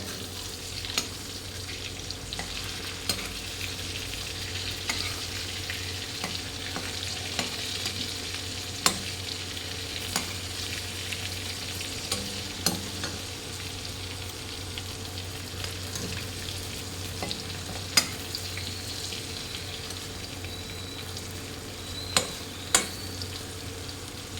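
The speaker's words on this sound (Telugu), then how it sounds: "ఓకే, ఇప్పుడు ఫ్రై అవుతుంది." Godavari prawns fry in a covered pan with a steady low crackle and sizzle, punctuated by sharp pops and occasional utensil clicks, with no one speaking.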